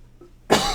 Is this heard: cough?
yes